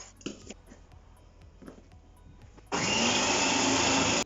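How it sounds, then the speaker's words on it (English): Food processor blades chopping onions and apple start up abruptly after a few quiet knocks, then run as a loud, steady whirring roar to the end. "throw it in the food processor"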